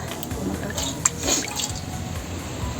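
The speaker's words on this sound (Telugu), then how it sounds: "మటన్ కడిగినది వాటర్ మొక్కలకు పోస్తున్నా." Water used to wash mutton splashes and trickles onto plants in a soft, uneven stream with scattered drips, heard close by and fairly quiet.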